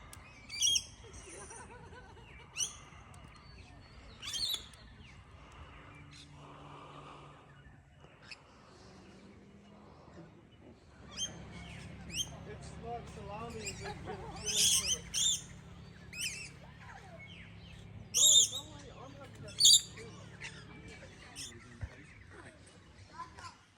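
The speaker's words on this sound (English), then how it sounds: "listening to all the birds, it's wonderful" Birds call intermittently in the open at a bush camp in the early morning, sharp chirps and whistles scattered near and far, with someone speaking quietly at times between them.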